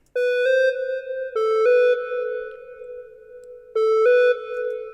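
Logic synth lead for an afrobeat track played with the arpeggiator switched off: sustained bell-like tones with sharp attacks, a few note changes in bursts separated by held decays, loud and alone.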